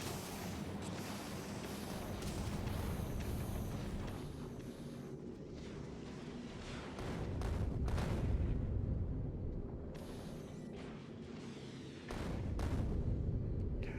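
Repeated explosions from artillery-style weapons in Factorio Space Age, a dense rumbling barrage of blasts that swells and fades in bursts, loud and continuous with no talk over it.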